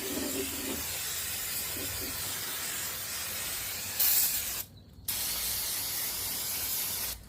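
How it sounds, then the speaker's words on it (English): Brake cleaner sprayed onto oil-coated parts under a 2012 Chevrolet Malibu, a loud steady aerosol hiss in long bursts with a brief pause before spraying resumes, close and without talk. "went ahead and got some brake cleaner. Hopefully get some of the oil off this crap."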